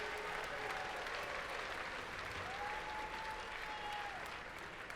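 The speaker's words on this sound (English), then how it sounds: "Give a nice round of applause for your DTE Key Volunteers." An audience at a robotics competition championship claps in steady, sustained applause, heard from a distance and fairly soft.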